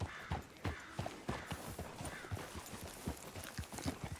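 Horse hooves clip-clopping at a walking pace in the Western game Red Dead Redemption 2, a steady rhythm of close, distinct hoof strikes with faint background ambience.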